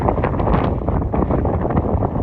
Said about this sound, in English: little windy up here.